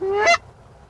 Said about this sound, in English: Annually, a local population of Canada geese feed in the open pastures of the farm